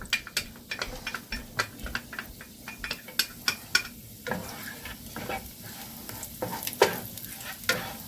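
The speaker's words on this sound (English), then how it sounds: "we're going to add the garlic first" Close, crackling sizzle of garlic frying in hot olive oil, with scattered sharp pops and a few utensil scrapes, no voices.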